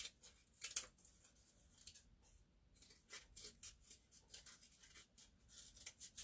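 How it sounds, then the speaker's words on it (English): Scissors snip through cardboard while cutting out eye shapes for an abstract craft face, making a series of close, crisp, uneven cuts with short pauses between them; no one speaks. "So I'm going to go ahead and cut those out."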